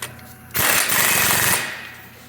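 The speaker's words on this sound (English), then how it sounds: "Then use the old handy dandy impact." A pneumatic impact wrench runs up a new wheel stud nut on a Ford Transit van's rear wheel, a loud, rapid hammering rattle lasting about a second after a quieter start.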